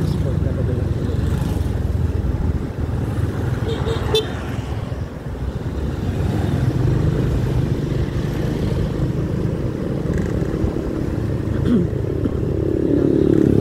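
A Honda XRM125 dual-sport motorcycle runs with steady engine and road noise throughout a ride, with passing traffic and a brief horn toot.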